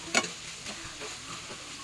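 Tomatoes frying and being stirred in a pan for chicken fry, with a soft scrape and a few brief clicks over a faint sizzle.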